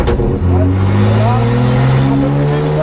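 A drift car's engine revs hard and climbs steadily in pitch, loud and close, with a rising whine over a rough exhaust roar.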